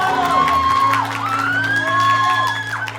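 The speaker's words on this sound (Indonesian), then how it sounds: "Sekali lagi boleh dong tepuk tangannya untuk seluruh pemenang kita." A crowd at the final of a Bali teen pop singing contest cheers and whoops for the winners, with shouts and high voices over steady clapping, loud and continuous throughout, with a low hum underneath.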